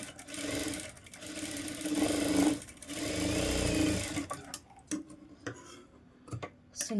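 A sewing machine stitches the shoulder joint of a blouse in a few close, buzzing stretches over about four seconds, followed by sparse light clicks and taps.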